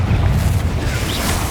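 A Confringo fire-blast spell in Hogwarts Legacy goes off as a short, loud, rumbling burst that stays dense and noisy for about a second and a half.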